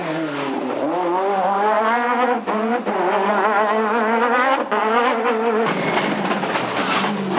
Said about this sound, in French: Derrière suivent 3 autres kit cars, la 306 Maxi de Christophe Vaison, la Clio kit car de José Adam et la Maxi Mégane de Jérôme Galpin